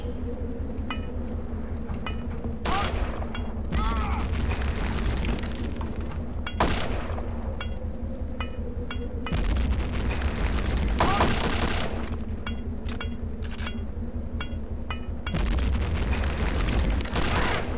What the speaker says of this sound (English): I'm gonna throw a regular grenade.